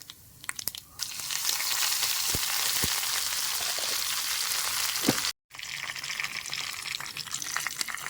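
Curry leaves dropped into hot oil already crackling with mustard seeds and dried chilli for beetroot pachadi, a burst into a loud, steady hiss with a few pops. The hiss cuts out briefly and then resumes, close up, with no voices.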